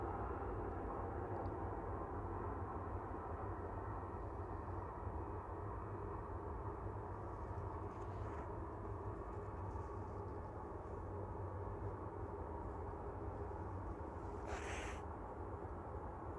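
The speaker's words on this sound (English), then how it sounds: "Next in, chasing them from Prague, is Jet2 DHL A321 with flight 888." Jet2 DHL Airbus A321 arriving at Manchester Airport in the evening, a steady low broadband engine roar that holds at an even level throughout, with no voices.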